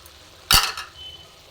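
Fried coconut and fried potato tipped into wilted spinach in a pan, a single brief scrape and stirring clatter with a soft sizzle trailing off, no talk.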